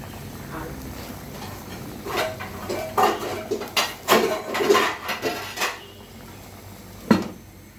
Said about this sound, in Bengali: এখন জাস্ট এটাকে আমি একটু ঢাকনা দিয়ে ঢেকে দেবো